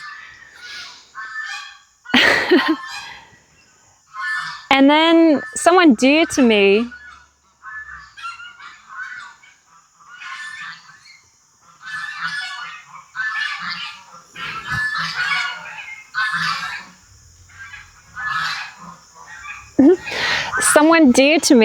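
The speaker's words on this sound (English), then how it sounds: "Maybe you can hear the geese." Geese honk loudly and repeatedly nearby, overlapping with a person talking at intervals.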